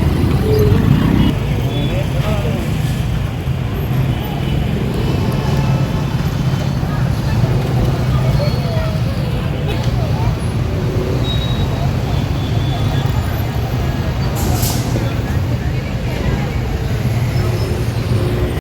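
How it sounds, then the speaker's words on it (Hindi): A Sunday traffic jam on Sarjapur road in Bengaluru, stretching from Doddakannelli to the Sompura signal, rumbles continuously with engine drone and road noise close by. Faint horns and passing vehicles come through, and a voice talks over it. "ये ट्रैफिक जाम एक यूजुअल संडे लेजी डे का है, जो डोमा संद्रा से लेके सोमपुरा सिग्नल तक कंप्लीटली फुल जैम है।"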